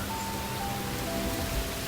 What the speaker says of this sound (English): A sudden downpour threatens to chill the eggs